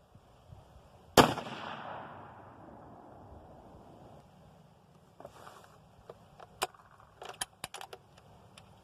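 A single sharp, loud report from a 30-06 rifle firing a handloaded round outdoors, with a decaying echo, followed by faint scattered clicks and handling noises.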